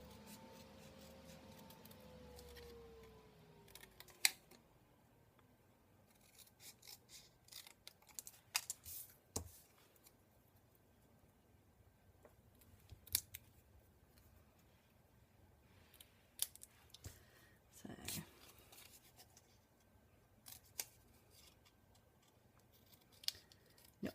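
Scattered crisp snips of scissors cutting through card, quiet and close, coming in irregular bursts with soft handling rustles between.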